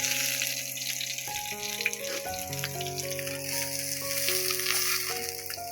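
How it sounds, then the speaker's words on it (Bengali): Potatoes for a curry fry in a pan with a soft, continuous sizzling hiss, partly masked by steady tonal background music. "ঝোলের আলুগুলো আগে ভাজতে নিলাম"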